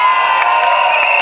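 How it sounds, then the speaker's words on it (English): A rally crowd welcoming the PAP Sengkang team in Sengkang cheers loudly and steadily, a dense sustained roar of voices with shouts carrying through it. "Let's put our hands together today and give a warm round of applause to welcome the PAP Sengkang team"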